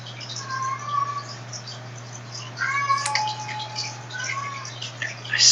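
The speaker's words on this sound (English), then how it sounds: "I swear that cat loves the sound of his own voice." A pet cat meows loudly and repeatedly indoors, drawn-out tonal cries with short pauses between them, ending in a sharper, louder call over a steady low electrical hum.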